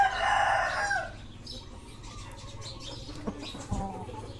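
A young Burmese-breed gamecock crows loudly at the start, then fades into quieter barnyard sounds with faint clucks and scattered background noises.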